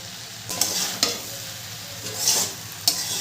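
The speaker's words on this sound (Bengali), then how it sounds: "নুনটা দিয়েও ভালো করে সবজিটাকে আমি কষাবো।" Vegetables for a vegetarian navratan korma are sautéed with salt over a medium flame, a bright steady sizzle broken by four or five distinct scraping spoon strokes against the pan, close and fairly loud, with no voice.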